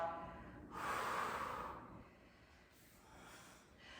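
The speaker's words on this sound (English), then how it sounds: "Breathing in," Deep, audible breathing during a Pilates session of side-to-side lunges, a long noisy inhale-like swell of air followed by softer exhalation, close and fairly faint with no talking.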